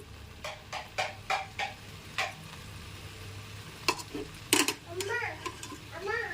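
A spoon stirs egg tomato curry in a pan after coriander is added, giving a series of soft rhythmic scraping strokes over a faint sizzle, followed by a few louder clinks against the pan.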